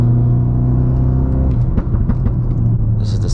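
Modified Ford Focus RS engine switched into sport mode on a canyon road, a steady low rumbling drone that turns rougher and burbling partway through, heard from inside the car with no talk.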